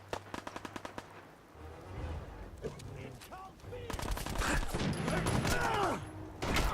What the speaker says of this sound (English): Oh, firefight. Check out my pipe pistol.